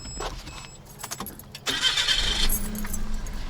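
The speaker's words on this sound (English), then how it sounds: "Let's go ahead and restart the engine and run it for 10 minutes." Keys jingle briefly, then a Suzuki Jimny JA22W engine cranks and catches at close range, settling into a steady rumble.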